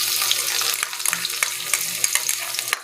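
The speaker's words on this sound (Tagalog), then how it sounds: "Antayin natin na mag-brown yung bawang." Garlic fries in a pan toward browning for a chicken curry with coconut milk, a dense close crackle over a faint steady hum, with quick light clicks of stirring scattered through.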